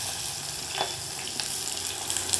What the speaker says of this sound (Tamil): 1 பெரிய வெங்காயம் வதக்குங்க.